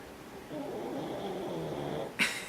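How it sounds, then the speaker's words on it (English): A pet cat lying on a bed close to the microphone snores softly and steadily in a low, rasping rumble, followed by a brief louder noise near the end. "she has the sweetest little snores"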